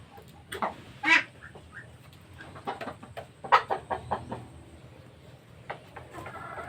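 Native chickens cluck and squawk in scattered bursts nearby, with occasional louder calls over a quiet background.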